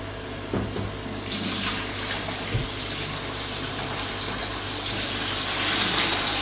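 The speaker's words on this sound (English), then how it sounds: "Just pour it until you're comfortable, and then tip the water down the sink." Water pours from a spout into a sink during cleaning, a steady gushing stream that grows brighter and fuller partway through and keeps running without speech.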